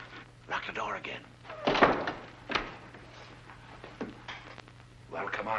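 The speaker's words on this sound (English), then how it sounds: "Lock the door again." A door thumps shut in a 1940s mystery-thriller scene, with a second knock or bolt sound shortly after, as people talk in between and around it.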